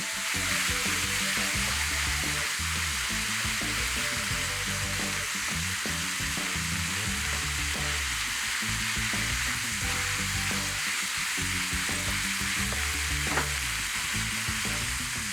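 A loud, continuous sizzle fills a pan of cooking curry with stink beans frying in it, a dense crackling hiss that runs unbroken throughout, with faint stirring underneath.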